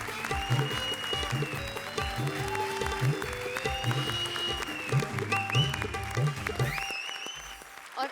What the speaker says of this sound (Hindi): लीथल कॉम्बिनेशन कपिल और कविता के लिए जोरदार तालियां।